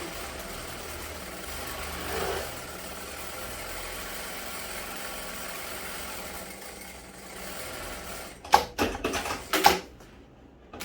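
A sewing machine stitches a straight seam on a fabric toiletry bag, running as a steady, quiet mechanical whir for several seconds before a burst of louder, sharper clattering near the end.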